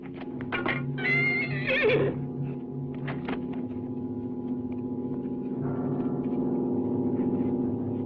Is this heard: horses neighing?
yes